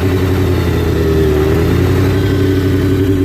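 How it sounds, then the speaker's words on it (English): A motorcycle engine runs loud and close with a steady drone as the clutch is released and the bike begins pulling away, a faint rising pitch in the middle. "there's a point when I release my clutch that my bike starts actually moving"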